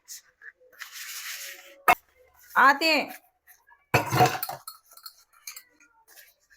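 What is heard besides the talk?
scrubbing dishes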